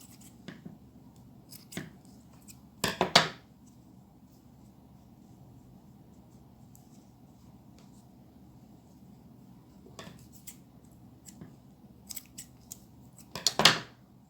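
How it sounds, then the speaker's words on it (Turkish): Scissors snip through yarn to make a hat pompom: a few short sharp cuts, then a quiet gap, then another cluster of crisp snips, all close against near silence. "Şimdi şu şapkamızın tepesindeki pomponu yapmak için de şöyle kesiyorum"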